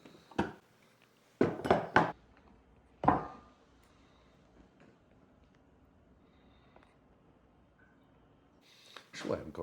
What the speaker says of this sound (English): transfer this hummus to a bowl